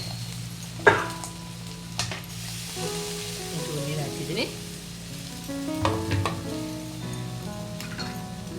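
Ridge gourd chutney cooks in a pan with a continuous close sizzle and bubbling, marked by a few sharper pops and utensil clicks, with faint tonal sounds in the background.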